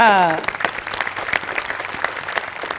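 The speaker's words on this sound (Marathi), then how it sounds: "त्याच्यासाठी एकदा टाळ्या." Audience at a live comedy show bursts into brief loud applause right after a voice trails off, the clapping dense and close for a couple of seconds.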